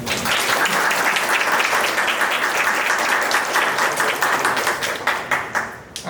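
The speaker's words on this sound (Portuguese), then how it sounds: "então, palmas, né?" Audience at a construction-industry talks event claps after a conversation on stage, a loud, dense burst of applause that holds steady and then tapers off in the final second.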